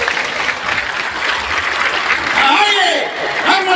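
A large crowd at an outdoor protest rally bursts into loud, sustained clapping, a dense steady roar close and continuous throughout, with a voice briefly audible through it.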